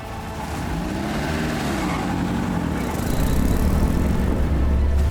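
Roaring engine of a 100-year-old vintage Bentley race car running steadily at night during a 24 hour race, heard close and loud from on board as a continuous drone with wind noise.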